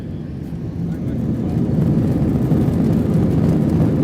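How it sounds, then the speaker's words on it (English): Inside the cabin of a Lufthansa Airbus A321 during a go-around at Faro, Portugal, a broad low engine roar swells after about a second, then holds loud and steady. "A Lufthansa Airbus A321 go-around in Faro, Portugal from inside the cabin."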